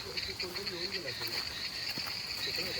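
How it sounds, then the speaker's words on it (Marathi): A frog croaks in low, wobbling pulses against a steady buzz of insects, with faint background noise of light rain falling in Kotwal village. "इथे बेडूक आहे."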